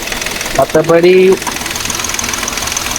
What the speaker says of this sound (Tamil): இன்ஜின் நார்மலாக தான் இருக்குது